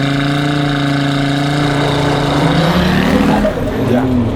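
A KTM X-Bow GT XR engine hums at a steady held rev under launch control, then surges and flutters as the revs shift, loud and close, with people talking over it.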